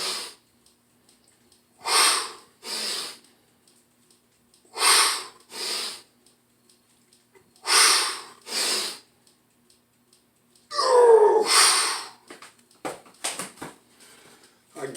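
During push-ups with the feet on a bench and chest over a ball, sharp forceful exhales come in a steady rhythm, roughly one or two breaths every few seconds, close and alone, ending in a longer rougher breath and a few short puffs.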